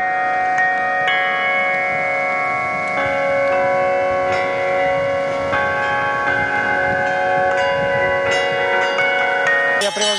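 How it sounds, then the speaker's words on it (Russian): Bila, flat metal bells struck by a bell ringer at a bell-ringing festival concert in Yelabuga, ringing tones layered with repeated strikes and long sustains, loud and close throughout. "Я привожу сюда била, плоские колокола"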